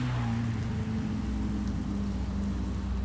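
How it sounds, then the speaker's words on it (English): Steady heavy rain at a motor racing circuit hisses continuously over a low rumbling hum, an even wash of noise with no talking. "unfortunately here today it is raining cats and dogs"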